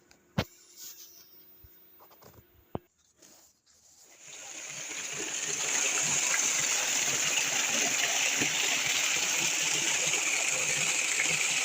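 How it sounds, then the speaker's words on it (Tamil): Water from a 1100W BLDC well motor pump line starts gushing after a few clicks and knocks, rising within a couple of seconds into a loud, steady, hissing rush that continues to the end. "லைன் கொடுத்து தண்ணி எப்படி வருதுன்னு பார்ப்போம் வாங்க."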